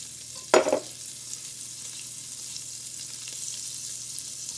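Ground beef sizzling with a little butter in a home kitchen pan, a brief burst of louder frying or stirring near the start, then a steady, faint background sizzle with no talking.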